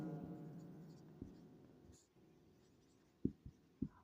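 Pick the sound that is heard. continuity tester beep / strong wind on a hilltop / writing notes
writing notes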